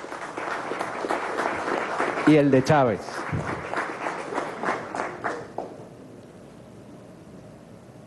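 An audience at an intellectuals' meeting on communication breaks into a round of clapping that swells under someone speaking Spanish, then thins out and fades to quiet room tone.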